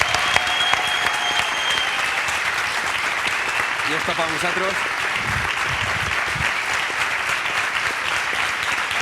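A live audience claps steadily and densely for the band, a full round of applause running the whole time with a voice talking over it.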